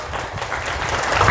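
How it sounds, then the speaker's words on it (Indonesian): An audience at a religious lecture breaks into dense, loud clapping that builds steadily over a second or so, with no other sound standing out. "Bapak Ibu sekalian, tepuk tangan untuk Ustadz Birrul Walidain."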